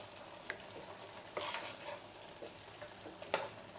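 A spoon stirs and mashes potatoes in thick ghugni gravy over a medium flame, with scattered scrapes and clicks against the pan over a soft sizzle and one sharper knock near the end.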